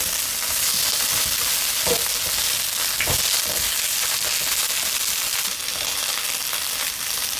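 Eggplant frying in oil in a pan over a gas burner, a constant crackling sizzle with a few sharper scrapes and stirring knocks, close and loud, no talking.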